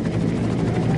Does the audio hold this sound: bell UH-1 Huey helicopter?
yes